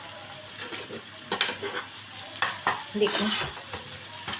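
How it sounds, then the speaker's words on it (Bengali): Mixed vegetables for egg fried rice are stir-fried together in a pan, a bright sizzle broken by several sharp stirring scrapes and tosses, with a brief spoken word near the start. "দেখুন বন্ধুরা, এবারে আমি সবকটা সবজি একবারে মিশিয়ে নিচ্ছি।"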